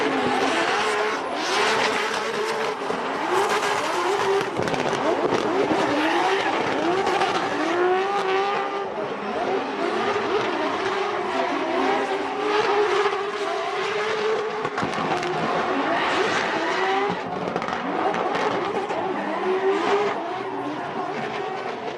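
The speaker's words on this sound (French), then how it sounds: "C'est maintenant Yuri Lévesque qui est en poursuite." A race car at a drag racing event, heard as a continuous loud engine roar with revving and tire noise throughout, close and unbroken, with no talk over it.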